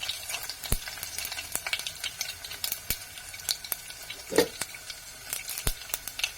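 Garlic and asafoetida crackle in hot oil for a Konkan-style raw mango curry, giving a quiet sizzle punctuated by frequent sharp pops and the scrape and tap of a stirring spoon.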